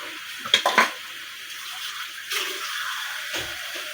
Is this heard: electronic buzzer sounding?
no